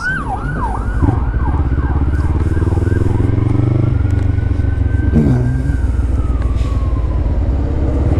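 An EMS emergency vehicle siren wails in rising and falling sweeps, then settles into a long steady tone as it passes on the road, over the constant loud rumble of a 300cc motorcycle engine and wind noise.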